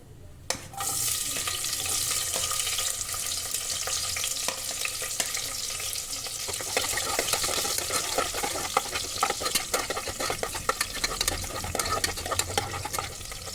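Onions and garam masala frying in a pan for hotel-style tomato bath, a continuous close sizzle with the scrape and clatter of stirring throughout, no talk.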